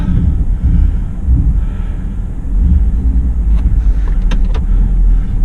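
A truck in 4-wheel low climbs a steep trail in Kentucky, its engine a loud, steady low rumble with wind buffeting the microphone and a few light rattles and clicks near the end.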